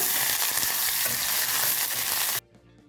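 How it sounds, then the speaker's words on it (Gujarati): Loud, steady sizzling of grated ginger and garlic sautéing in a hot pan, continuous for a couple of seconds before cutting off abruptly. "1 ચમચી આદું અને લસણ લઈએ છે, ખમણેલા લઈએ છે અને સાતળી લઈએ"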